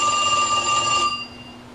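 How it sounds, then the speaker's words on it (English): A telephone bell ringing in a single clear electronic burst that cuts off abruptly, leaving a faint hum. "Hey, answer the phone!"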